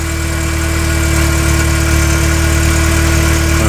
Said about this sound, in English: It's running. That's the air pump. You hear that thing running.